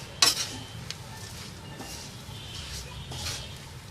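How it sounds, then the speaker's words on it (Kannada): A pan of poha (flattened rice, avalakki) being stirred over a low flame: soft, scattered scraping strokes, with one sharper scrape near the start, over a faint steady sizzle. "ಸಣ್ಣ ಉರಿಯಲ್ಲೇ ಚೆನ್ನಾಗಿ ನಾನು ಇದನ್ನು ಮಿಕ್ಸ್ ಮಾಡ್ಕೊತೀನಿ"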